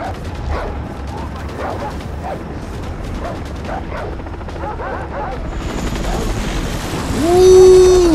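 A dog barks several times in the Far Cry 3 video game, rough repeated barks over busy game background noise, ending in a higher whining tone.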